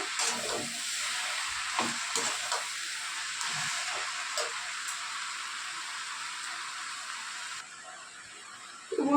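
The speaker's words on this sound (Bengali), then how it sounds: "ভালো করে লাউ এর সাথে মশলাটাকে মাখিয়ে নিতে হবে" Bottle gourd being stirred with spice paste in a pan for a rohu fish-head lau ghonto, giving a steady close sizzling hiss with soft stirring scrapes that cuts off near the end.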